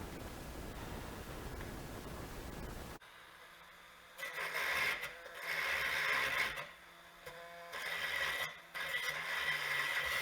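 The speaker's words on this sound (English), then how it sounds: "the reason I used that grinding disc was just to round it out and get rid of sharp edges" An abrasive grinding disc rounding off and deburring a copper radiator port, a harsh hissing scrape heard in several sustained passes with short pauses between them, close and fairly loud.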